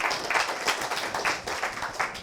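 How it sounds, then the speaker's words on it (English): An audience at a morning talk event claps in a short burst, with close uneven hand claps pulsing together for a couple of seconds. "Let's all give them a round of applause for answering the call to adventure"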